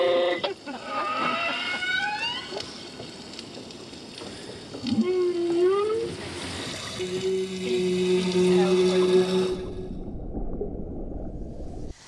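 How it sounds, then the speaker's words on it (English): Long, eerie whale song heard through a boat's hull rises and falls in sweeping moans and sustained tones, muffled and resonant over a watery rumble. "we'll hear it singing through the bottom of the boat"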